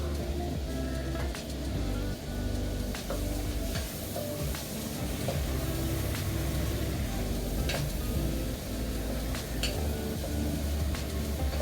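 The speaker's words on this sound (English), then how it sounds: "So we are going to saute all the vegetables." About three large onions and other vegetables sauté in a pan for pav bhaji, giving a steady, continuous sizzle over a low rumbling background with occasional faint clinks.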